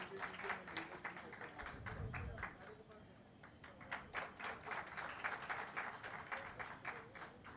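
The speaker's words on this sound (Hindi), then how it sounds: "मौजूद लोगों से हम आग्रह करेंगे कि ताली बजाकर अपनी ओर से भी धन्यवाद ज्ञापित करें" An audience at a conclave event claps in a steady, rhythmic round of applause, moderately distant, briefly dipping before building again.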